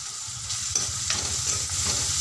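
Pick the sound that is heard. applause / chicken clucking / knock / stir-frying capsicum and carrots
stir-frying capsicum and carrots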